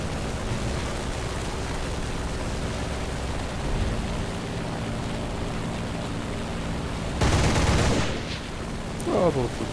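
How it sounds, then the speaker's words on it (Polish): Rapid gunfire from a combat aircraft in a video game dogfight, a dense burst of shots rising sharply over a steady engine drone, then a brief second burst near the end. "Strzał na wiwat."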